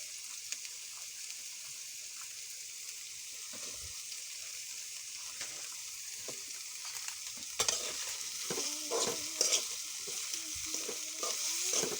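Chopped garlic and green chili frying in a pan while being stirred, a soft continuous sizzle with scraping and clinking stir strokes growing busier toward the end.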